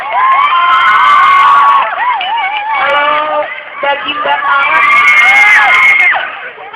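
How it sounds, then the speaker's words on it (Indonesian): Loud audience cheering with high-pitched shrieks and whoops, rising and falling in excited bursts across several seconds, with clapping not clearly standing out. "Tepuk tangan dong."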